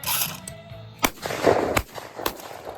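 Sharp rifle shots echo outdoors at a Fourth of July Tannerite shoot, with several loud bangs spaced about a second apart and one bigger booming blast near the middle.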